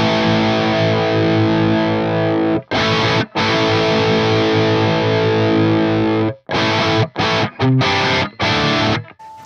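A distorted electric guitar runs through an Axe-Fx parametric EQ block with a cut around 1.4. It plays loud, sustained, crunchy chords, then a series of short chopped stabs with gaps between them.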